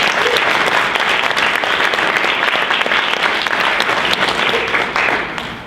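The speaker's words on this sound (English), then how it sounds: "Let's give a round of applause for Joanne." An audience at a poetry reading bursts into sustained applause, dense crowded clapping at close range that holds steady before easing slightly at the end.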